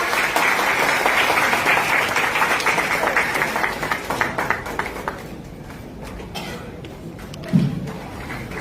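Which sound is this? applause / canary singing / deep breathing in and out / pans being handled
applause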